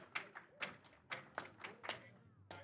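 Audience at a speedrun event clapping along in time, about eight distinct sharp claps in a steady rhythm, fairly faint and slightly distant, with low background murmur between the beats.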